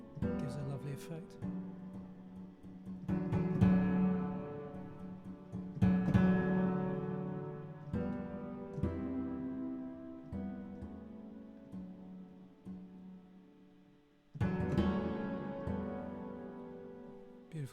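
Chris Hein OCTA sample library sounding sustained chords and octave combinations in slow swells, with a bright attack near the start and another near the end, rich and resonant with no voices over it.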